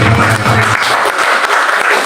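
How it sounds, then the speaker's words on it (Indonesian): A church congregation at a Jakarta worship service breaks into loud, hearty applause, a dense burst of many hands clapping that carries steadily on its own. "Kasih tepuk tangan yang meriah."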